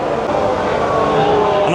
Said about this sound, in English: Another spot to just sit and watch F1 cars drive around all day.